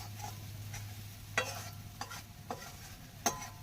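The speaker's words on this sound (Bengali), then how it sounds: "এই দেখো এগুলো ভালো করে ভেজে নেওয়া হচ্ছে।" Vegetables fried in a pan for chowmein, a faint steady sizzle with a low hum beneath and several sharp clinks of a spatula stirring at irregular intervals.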